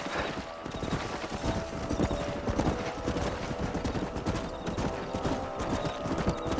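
Horse hooves clip-clop in a steady, rhythmic trot in the video game Red Dead Redemption, continuous and fairly close, with faint background rumble.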